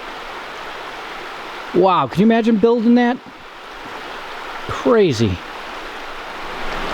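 A babbling brook in New Hampshire woods rushes as a steady, close wash of water noise throughout, while someone talks briefly over it.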